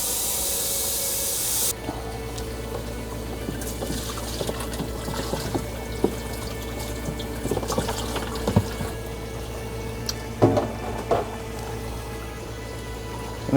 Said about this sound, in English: Then you can go ahead and rinse the reservoir with warm water.